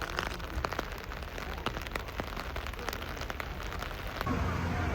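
Steady rain falls on surfaces at Magic Kingdom near the Carousel of Progress, a dense hiss with scattered sharp drops, heard close and moderately quiet, with a low rumble creeping in near the end.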